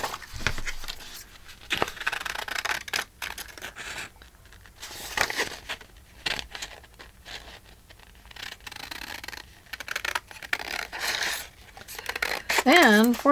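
Scissors cutting through a paper printout for a digital scrapbooking kit, crisp snips and rustles coming and going under a voice talking nearby.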